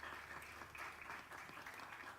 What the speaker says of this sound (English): Please, let's give a warm round of applause.